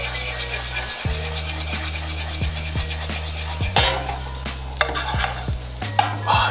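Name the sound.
stirring rice toasting in a pan with cumin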